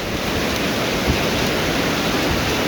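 Heavy rain pours down during a storm while water rushes and flows nearby, a loud dense steady hiss with no pauses and no voices.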